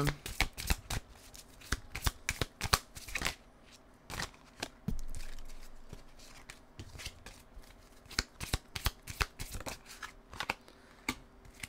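Tarot cards being shuffled by hand, a rapid series of crisp riffling snaps and flutters in irregular bursts, close and clear, with a few pauses and a soft voice in the background.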